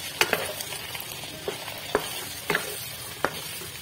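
Ginger garlic paste frying over a medium flame for chicken karahi, a steady soft sizzle broken by several sharp stirring clacks of a spoon against the pan.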